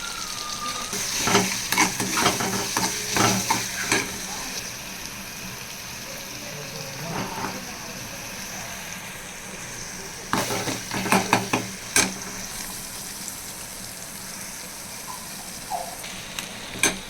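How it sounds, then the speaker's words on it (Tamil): Tomatoes with salt and turmeric sautéing in a pan for crab fry, with a steady sizzle under bursts of clattering spoon stirring, a long quieter stretch in the middle, then more scraping and stirring, all close with no talk. "தக்காளி வதங்கட்டும்."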